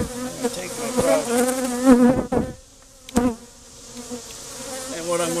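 Honey bees buzz close up at an open hive during inspection, a dense, wavering drone rising and dipping in loudness, with a few sharp clicks and taps in between.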